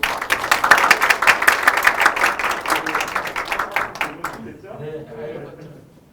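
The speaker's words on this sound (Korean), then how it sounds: "큰 박수로." A seated audience at a 2020 teacher-training case-sharing event on character education claps in a quick, loud burst for about four seconds, then the clapping stops and a voice begins speaking.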